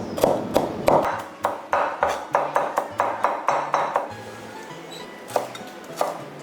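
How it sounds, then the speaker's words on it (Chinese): A knife minces shallots and ginger on a cutting board in a steady run of close, evenly spaced chops, with light ringing pings between some strokes and a few slower cuts at the end. "再把配料切一下"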